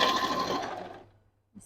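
A sewing machine stitching a wig weft whirs in a quick burst that tapers off and stops, leaving a moment of near silence before a faint knock at the end.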